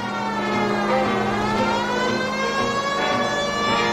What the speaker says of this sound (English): I'm going to put my sirens on.